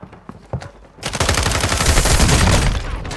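Hurricane gun firing in a video game, a dense, loud burst of rapid automatic fire that starts suddenly after a few scattered shots and keeps going to the end.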